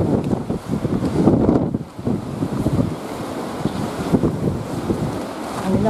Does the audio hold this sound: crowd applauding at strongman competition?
no